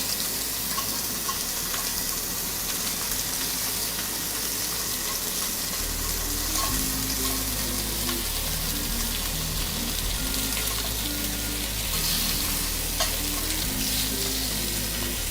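Lamb searing in a hot pan gives a continuous close sizzle and crackle throughout, with occasional stirring and scraping sounds and a faint background hum.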